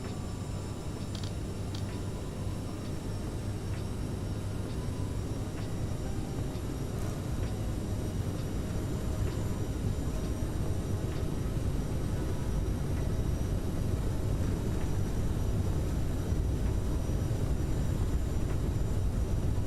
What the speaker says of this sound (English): Okay, we're clear for takeoff.